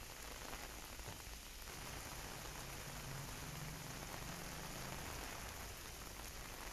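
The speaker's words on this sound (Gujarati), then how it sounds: "દાહોદમાં વહેલી સવારથી મુશળધાર વરસાદ વરસ્યો છે।" Heavy monsoon downpour in Dahod, Gujarat, with a dense, unbroken hiss of rain pounding surfaces that stays steady and loud throughout, with no voices.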